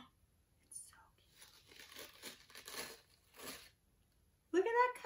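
Material peeled off a DIY owl tiered tray decoration makes soft, close ripping and crinkling sounds in short bursts, and a voice speaks at the end.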